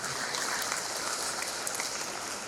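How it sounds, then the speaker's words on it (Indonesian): Dense, steady applause from an audience at an AMKI Aceh gathering, saluting the PW AMKI Aceh delegation. It holds at an even level for the whole stretch and sounds like many hands clapping at some distance. "Tepuk tangan untuk PW Amki Aceh."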